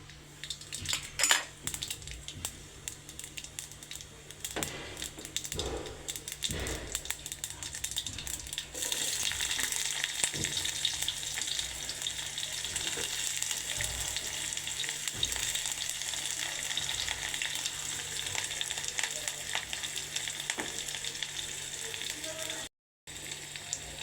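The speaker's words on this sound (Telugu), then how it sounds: "ఆయిల్ కొంచెం హీట్ అవ్వగానే పోపు గింజలు వేసుకోవాలి" Tempering seeds sizzle and crackle in hot oil in a kadai, a steady bright frying hiss that swells after the first few seconds and holds close and loud, with occasional clinks of a utensil against the pan.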